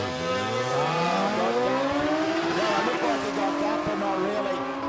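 Nine-second drag bikes without wheelie bars racing down the strip at Warwick Dragway in Australia, high-pitched engines screaming and shifting pitch in overlapping waves, loud and continuous, with a commentator talking over them.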